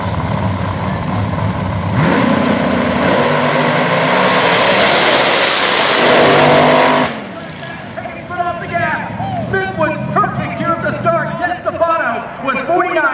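A Shameless Racing Camaro drag car makes its run at the PDRA World Finals eliminations, a loud sustained engine roar building for several seconds then cutting off abruptly, followed by crowd noise and a commentator talking.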